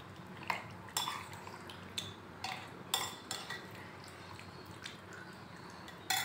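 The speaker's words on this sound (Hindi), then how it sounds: "इसको अच्छे से मिक्स कर लेंगे।" A spoon stirs turmeric into chicken malai in a pot, making faint scraping swirls and a series of sharp metal clinks against the pot at irregular intervals, with no talking.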